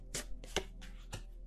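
A deck of tarot cards is shuffled by hand in four soft, quick riffling bursts, close but quiet, with short pauses between them.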